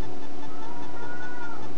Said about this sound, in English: And then there's a kitty cat somewhere